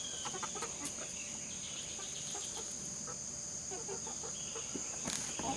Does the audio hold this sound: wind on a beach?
no